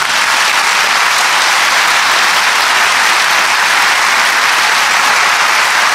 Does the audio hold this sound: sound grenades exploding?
no